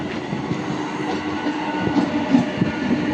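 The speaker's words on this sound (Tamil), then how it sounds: "நம்ம பீச்சுக்கு போகிற ட்ரெயின் வந்து நிற்கிது, போகுது." A suburban train rumbles slowly and steadily along the rails near Killambakkam, Chennai, a continuous heavy roll with faint rhythmic clatter, fairly close and without voices.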